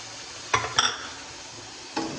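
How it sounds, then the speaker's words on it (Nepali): Masala with garlic being stirred and fried in a pan, a soft steady sizzle underneath with a few scraping, clinking spoon strokes against the metal, close up and without talk. "यसलाई पनि एकछिन फ्राई गर्ने।"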